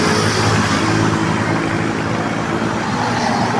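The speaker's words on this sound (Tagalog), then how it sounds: "Hirap dito paghapon, grabe traffic dito." Heavy afternoon road traffic near an airport, a loud, continuous wash of car and truck engines and tyre noise close by, with no speech over it.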